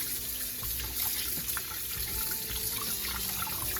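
Tilapia fish rinsed by hand under a running kitchen tap, a steady close stream of water splashing into the sink throughout, with no talking.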